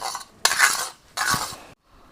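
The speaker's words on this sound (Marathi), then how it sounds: "ह्याच्यात ना कोडपड जी टाकली ना ती मिक्स करून घ्यायची आपल्याला" A spoon scrapes and mixes ingredients in a bowl, including mustard oil, while a home remedy for cracked heels is made. Two short bursts of close scraping and clinking are separated by a brief pause, with no voices.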